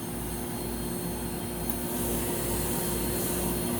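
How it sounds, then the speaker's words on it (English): A Rainbow SRX vacuum cleaner vacuuming a floor, a steady whining motor drone with rushing air and a faint rhythmic pulsing, close and continuous with no talk. "we'll do a little bit of vacuuming with it."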